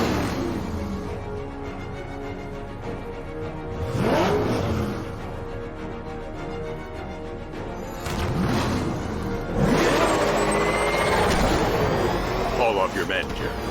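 Police squad car engine revving and accelerating during a chase in the Gotham Knights video game, swelling in two louder bursts with sweeping tones, with a voice speaking over it.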